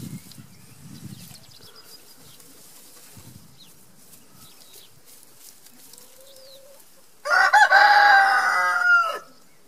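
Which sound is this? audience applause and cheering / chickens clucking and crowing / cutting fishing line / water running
chickens clucking and crowing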